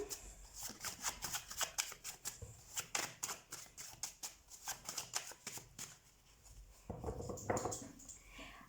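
Tarot cards are shuffled by hand in a rapid run of crisp riffling flicks lasting several seconds, then a brief pause and a softer rustling slide of the deck, close and quiet, with no voice.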